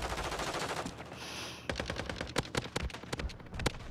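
Rapid automatic gunfire in a first-person shooter video game, with dense bursts of loud shots following a steady roar, no speech over it.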